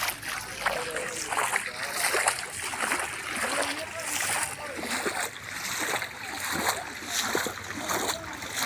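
Floodwater splashes repeatedly as people wade homeward along a submerged road near Feni, with irregular sloshing surges throughout and voices talking nearby.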